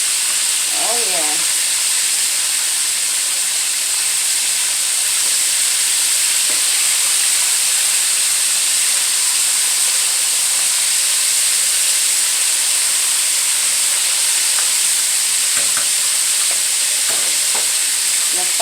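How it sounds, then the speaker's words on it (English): Large mustard chicken wings fry in hot oil with a steady, loud sizzling hiss that fills the whole stretch, broken now and then by faint clinks and a brief voice. "Frying up in here, baby."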